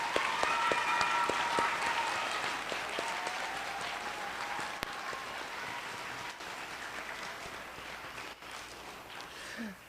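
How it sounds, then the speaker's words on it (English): An audience at an elementary school Purple Star celebration applauds a state representative: steady, dense clapping from a sizable crowd that lasts throughout and tapers slightly at the end. "Please give him a round of applause"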